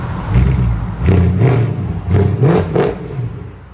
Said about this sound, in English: C63 AMG, give it gas.